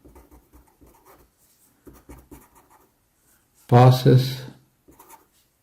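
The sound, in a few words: pen writing on paper while solving a math problem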